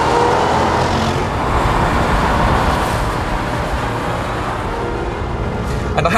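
A supercharged Jaguar XKR sports car cruises on the road, its engine giving a steady, loud drone with a faint supercharger whistle, heard from inside under broad road noise throughout.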